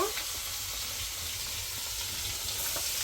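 Chicken frying in a pan with a steady, close sizzle and crackle of hot oil, occasional stirring scrapes, and no one talking.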